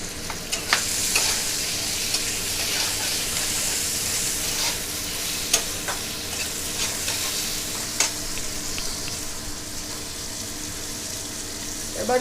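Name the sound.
stirring spinach with turmeric and salt in a frying pan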